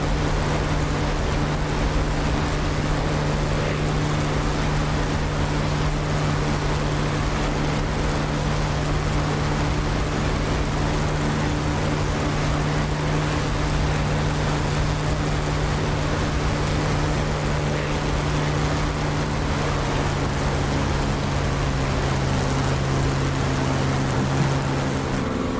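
Harrier jet engine roaring during a flight simulator takeoff, a steady, dense, loud rumble with a sustained low hum that holds throughout, no voices.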